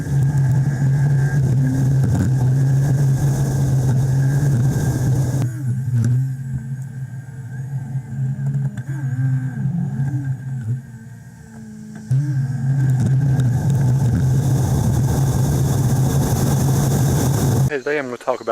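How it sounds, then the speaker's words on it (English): Steady road and engine drone from a car cruising at about 50 mph, recorded from a windshield-mounted GoPro Hero 3, loud and continuous with wind rush, dipping to quieter cabin hum midway. "I put one of the mounts on there tonight and drove at speeds of about 50 miles an hour."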